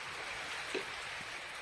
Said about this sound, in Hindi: भयंकर बारिश और तूफान सुबह से ही लगातार जारी